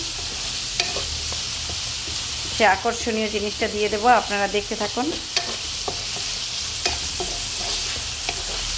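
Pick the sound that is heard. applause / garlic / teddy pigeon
garlic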